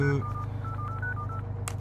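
A string of short telephone keypad tones, one after another in an uneven dialing rhythm, ring out steadily over a low hum, and a brief faint click comes near the end.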